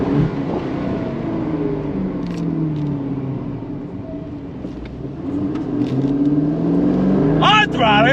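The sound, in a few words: 2024 Aston Martin DB12 Volante engine accelerating on throttle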